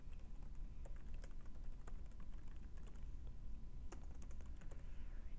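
Someone types an email address on a computer keyboard, producing a steady run of quiet, close key clicks for several seconds with no voices.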